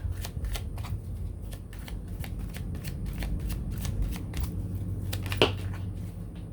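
Tarot cards being shuffled before a spread, heard up close as a steady run of quick riffling flicks and papery slaps, with one sharper snap near the end.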